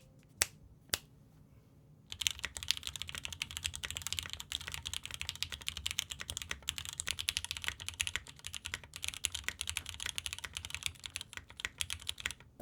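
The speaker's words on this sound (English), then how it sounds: "let's see what this board sounds like with no foams. First with the stock keycaps" Rapid, busy keystrokes on a DROP CSTM65 keyboard with no foam dampening and stock keycaps, a dense clacking stream of close taps starting after two isolated clicks, steady and alone without any talking.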